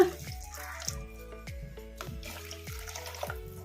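Water is poured into a mixer grinder jar in soft, repeated glugs at a steady rhythm, fairly quiet and without any talking.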